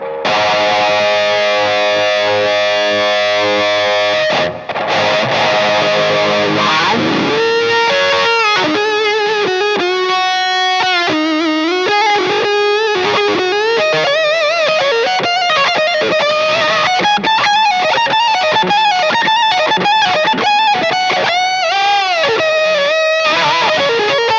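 Loud, distorted electric guitar through a Slash signature wah pedal with gain boost, sweeping wah effect, sustained chords then a gliding, vocal-like lead line, boosted and gritty throughout.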